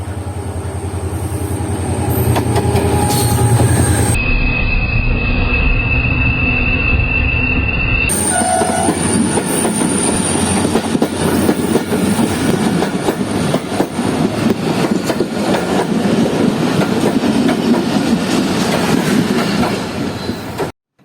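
The Hazara Express passenger train runs on rails between Karachi and Shahdadpur, with loud continuous rolling rumble and high metallic wheel squeal, heard from close by for the whole stretch with no talk.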